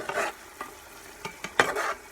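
Ground beef stirred into a buttery celery and onion mix for Instant Pot chili, heard as a few scattered scraping, shuffling strokes over a faint background, with no talking.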